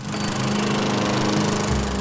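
A lawn mower engine running steadily and loudly up close, a continuous buzzing drone that holds for the full stretch with no talking.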